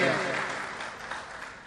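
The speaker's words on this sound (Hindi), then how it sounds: "आपके सारे लोग मोहब्बत मिलकर जरा जल्दी तालियां बजा दें" Applause from an audience at a mushaira poetry gathering in Thane, a dense, steady wash of clapping that starts strong and slowly tapers over a couple of seconds, with voices mixed in.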